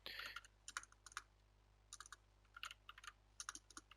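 Keyboard typing while a name is entered in a game's custom modification menu, a few quick bursts of clicking keystrokes with short pauses between, close and fairly quiet.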